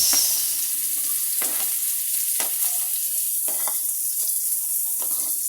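Onion frying in a pan after garlic, a constant bright sizzle with a series of spoon scrapes and stirring knocks, close and steady with no talking.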